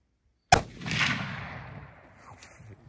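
A single hunting gun fires during a hunt in Africa: one sharp, loud close-range crack with a long rolling echo that fades over about two seconds. No voices.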